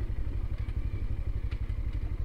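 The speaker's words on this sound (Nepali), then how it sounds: "ल बाइक चाहिँ यहाँ राख्थ्यौँ" A motorcycle engine idles close by with a steady low throb and faint clatter, as the bike is ridden up and parked at a park in Chautara, Sindhupalchok.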